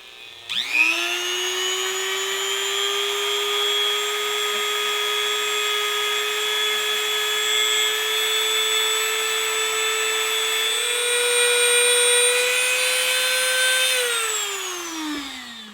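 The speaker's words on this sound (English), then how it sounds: "Forgot I had a Dremel." A Dremel rotary tool grinding old solder off vintage Telecaster guitar potentiometers, a steady high motor whine that spins up at the start, holds for about thirteen seconds, then winds down.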